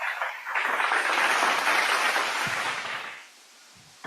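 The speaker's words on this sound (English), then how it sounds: "A big round of applause for UNICEF as well." A round of applause for UNICEF at the global inauguration of Youth in Evaluation week 2024 swells into a dense, even burst of clapping for about three seconds, then fades quickly into near silence.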